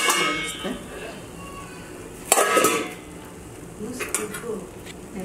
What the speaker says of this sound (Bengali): এখন আমি ঢাকনা সরে একটু দেখে নিব অবস্থা।